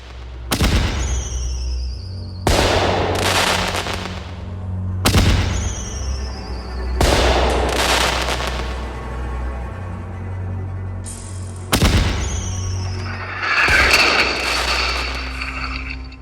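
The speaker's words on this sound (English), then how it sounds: "12th Marines with a 105mm howitzer returning fire during incoming" A 105mm howitzer of the 12th Marines fires repeatedly during incoming fire, heard from a trench about 15 yards away: five loud, sharp booms at irregular intervals, each rolling into a long rumbling decay over a steady low engine-like drone.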